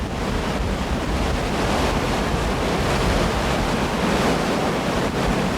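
High, rough seas heard from a Jeju tilefish longline fishing boat in the East China Sea, a steady loud roar of waves and wind noise buffeting the microphone throughout, with no voices.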